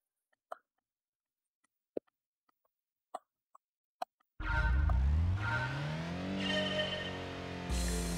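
Race car engine in Gran Turismo 2, during a B license test: a few sharp isolated clicks, then a loud engine bursts in and drones steadily, rising in pitch through gear changes, with a brighter surge near the end.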